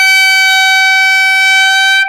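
A steady, bright clarinet tone from correct embouchure holds one pitch with rich even harmonics for about two seconds, then stops cleanly.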